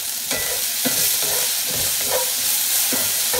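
Sautéed vegetables seasoned with saffron and turmeric sizzle loudly in a hot pan, close up. Repeated scraping and tossing strokes break through a constant frying hiss.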